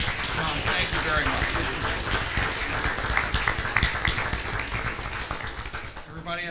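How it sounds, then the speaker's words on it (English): An audience at a summer seminar session gives its speaker a sustained round of applause, dense and fairly close, with some talk under it. "Can we have one more round of applause for our speaker?"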